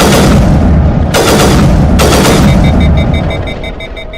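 Loud gunfire from the Mass Effect Legendary Edition video game: two sharp, booming shots about a second apart, each with a ringing tail, followed by fading electronic tones, with no talk over it.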